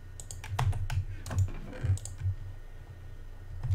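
Rapid clicking keystrokes on a computer keyboard, typed in short uneven bursts at close range with no talking.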